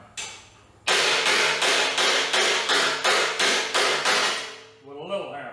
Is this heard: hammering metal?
yes